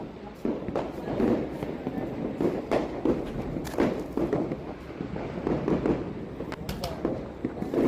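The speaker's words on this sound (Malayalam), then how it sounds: "എന്തുവാടാ പടക്കത്തിന്റെ ബഹളാണല്ലോ" Firecrackers crackle and pop in rapid, overlapping bursts during a midnight New Year celebration, a steady noisy barrage at moderate distance with voices talking underneath.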